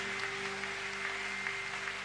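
Steady, distant congregation applause at a church service, with a faint rhythmic clapping pulse, sustained throughout under a constant electrical hum.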